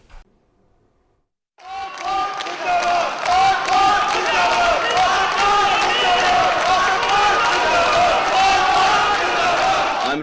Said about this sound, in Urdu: عمران خان صاحب کے حق میں نعرے لگ رہے تھے